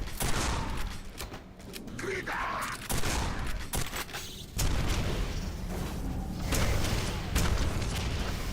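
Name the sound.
rocket explosions in the video game Quake 4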